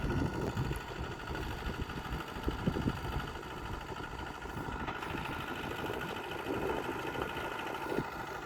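A walking tractor's small engine chugs steadily while leveling a muddy, flood-soaked rice field, a continuous close rattling drone with a faint background whine and no speech.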